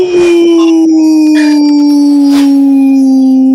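Dog howls in one long, loud, slowly falling tone held close up throughout, with faint short yips and background noise.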